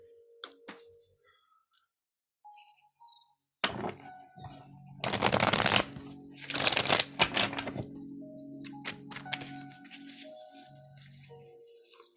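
Tarot cards are shuffled in several rapid riffling bursts, crisp and close, separated by quieter handling clicks and pauses.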